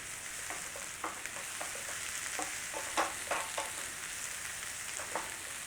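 Onions fry slowly and steadily in a pan, producing a continuous soft sizzle broken by light scraping stirs, close and fairly quiet, with no talking.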